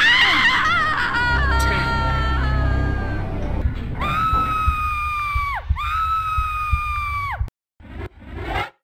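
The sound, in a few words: Lara Croft screaming while falling, from video game Tomb Raider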